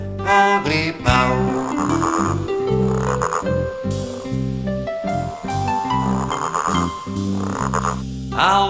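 Low, rhythmic croaks of a toad repeat in rapid pulses alongside a singing voice and melodic sounds, loud and close throughout.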